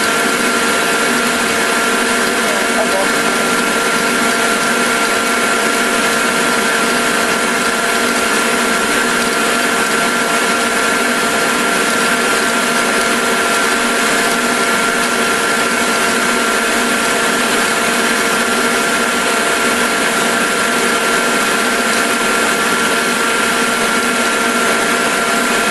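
Electric fluid bed coffee roaster, upgraded from 2 lb to 5 lb capacity, running with its vacuum at full force: a loud, constant mechanical whir and hum, unbroken and steady, with no talking.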